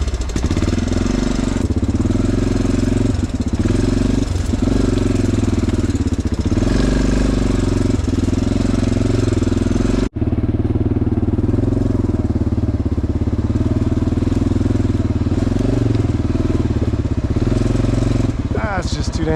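A boat's outboard engine runs with the choke on, a loud, steady mid-pitched drone with a rough pulsing idle that holds throughout, briefly cut once midway, with no speech over it.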